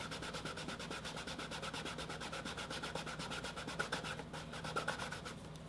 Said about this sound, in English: I am gonna burnish this bottom